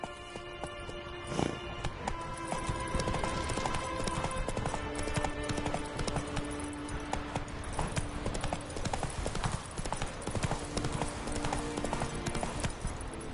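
Roach the horse trots along in The Witcher 3, a dense, continuous patter of close hoof clip-clops over steady game ambience with faint tonal music, and no talk.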